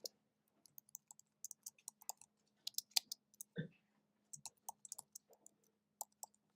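Sparse, quiet keystrokes on a computer keyboard, short crisp clicks arriving in small irregular bursts with gaps between them, close to the microphone over a faint steady hum.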